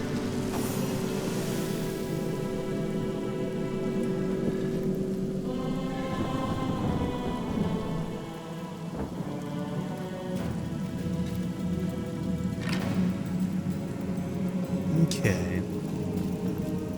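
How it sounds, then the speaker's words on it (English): Rain spell cast in the video game Divinity: Original Sin, a steady hiss of rainfall pattering on surfaces with scattered droplet hits and a low rumble, continuing under a musical game soundtrack. "Let's get some more rain here."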